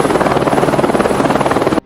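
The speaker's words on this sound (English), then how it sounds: "Just getting out of the helicopter" A helicopter's rotor beats in a fast, even rhythm, loud and close, cutting off abruptly at the end.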